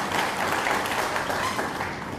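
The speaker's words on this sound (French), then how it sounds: "je vous prie d'applaudir et d'acclamer très fort" An audience at a political address in Mali applauds and cheers for the armed and security forces, a dense, steady wash of clapping heard at moderate distance throughout.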